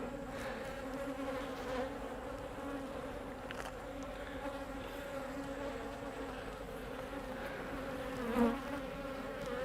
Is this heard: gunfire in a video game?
no